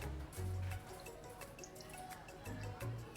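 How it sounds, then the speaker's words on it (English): Hot chocolate sauce poured over a dessert dome in a video game, a soft dripping, trickling flow with low liquid burbles rising and falling across the moment, fairly faint and with no talk. "Colonel Sanders pours the hot chocolate sauce on top of the dome, causing it to melt away"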